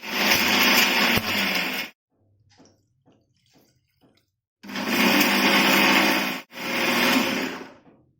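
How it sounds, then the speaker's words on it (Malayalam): A kitchen mixer grinder whirring loudly through coconut and water in three bursts with quiet pauses between, the middle pause holding a few soft clicks. "ഇനി നമുക്കിതൊന്ന് നല്ലതുപോലെ ഒന്ന് അരച്ചെടുക്കാം"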